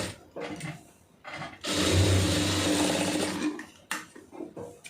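A sewing machine runs in one steady burst of about two seconds, stitching a pleated puff sleeve, with soft handling rustles of fabric before and after.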